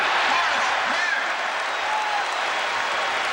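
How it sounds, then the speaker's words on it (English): A 1988 NBA arena crowd at a Lakers–Bulls game in Chicago roars after a score, a loud, sustained wall of cheering and applause filling the space without a break. "Listen to this crowd here. There's the score, and you hear the roar."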